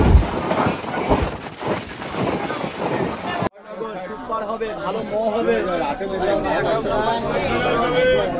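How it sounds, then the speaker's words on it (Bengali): A train at railway platform 18 in a busy station, its rumble and clatter loud at first, then the sound shifts to a dense crowd chatter with rail noise beneath. "6:53 বাজে আমাদের ট্রেন দিয়ে দিয়েছে 18 নম্বর প্ল্যাটফর্মে।"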